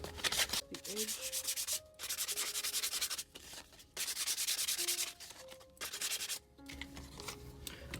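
Sanding the edge of a paper craft piece inked with vintage photo ink, heard as repeated close, raspy rubbing strokes in short bursts separated by brief pauses, over faint background tones.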